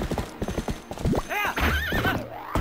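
A horse in The Legend of Zelda: Twilight Princess on Wii clip-clops along, then lets out a loud, rising neigh and whinny, with a voice talking briefly over it.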